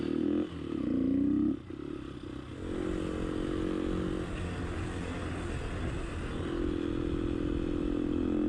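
A Honda XLR125R motorcycle rides along a road, its engine droning steadily and close throughout, with a brief change in pitch early on as it shifts and continues at a constant pace.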